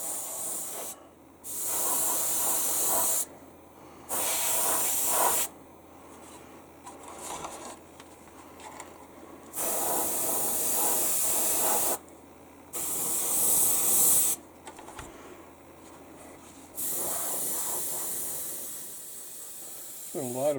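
Airbrush spraying Mr. Paint lacquer at about 10 to 12 psi, laying down a primer and Russian yellow-grey coat on a model kit: loud repeated hissing bursts of a few seconds each, separated by short quiet gaps.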